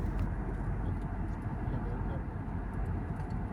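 A steady, low engine drone fills an airplane cabin in flight toward Ladakh, an unbroken, even hum with no distinct events.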